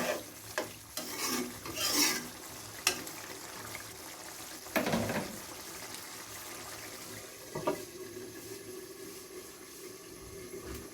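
Spice paste fries in oil in a home kitchen pan while a spoon stirs it, giving intermittent scraping and sizzling bursts over a low background hiss, spaced several seconds apart.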